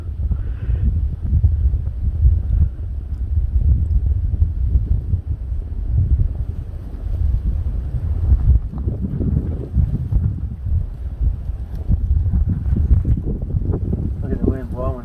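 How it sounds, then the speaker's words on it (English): Wind gusts during a March hike on Signal Knob near Strasburg, Virginia, a loud, continuous low roaring buffet against the microphone, with people talking over it. "Look at the wind blowing."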